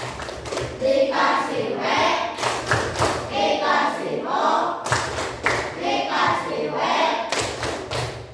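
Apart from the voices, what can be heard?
class clapping hands in rhythm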